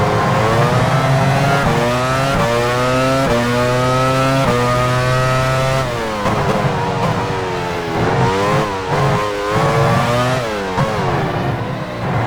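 A Formula One car in F1 Challenge 99/02 pulls out of the pit lane at Magny-Cours, France, its engine loud and close, revving through rising gear changes with sharp harmonic whine and no talking.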